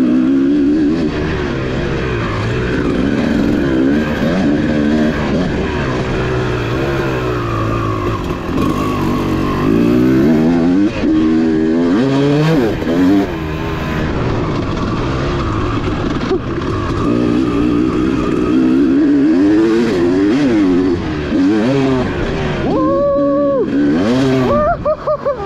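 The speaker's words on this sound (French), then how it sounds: "Quand tu ouvres les gaz comme ça" An SX motorcycle accelerates as the throttle opens, its engine tone sweeping up and down repeatedly in loud, close bursts over constant wind rush.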